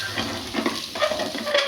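Biryani masala for a spicy chicken biryani with small onions is stirred in a pan, a spoon scraping in short repeated strokes under a soft, steady sizzle.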